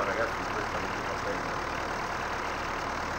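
A grass-cutting machine in Farming Simulator 19 runs with a steady, loud engine drone that holds at an even level throughout, with no breaks.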